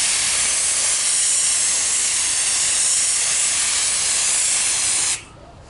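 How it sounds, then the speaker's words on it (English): Spray gun hissing loudly and steadily as paint goes onto a sanded plastic Camaro F-Body bumper, close and continuous, then cutting off abruptly near the end. "I'm just painting the top of the bumper where I sanded it."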